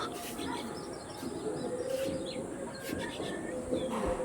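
Chennai Blood pigeons kept for sale coo and chirp softly at middle distance over a steady background hum, with no talk.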